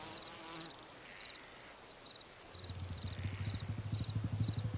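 A housefly buzzes in flight, the drone swelling louder and closer over the last couple of seconds with a rapid wingbeat throb.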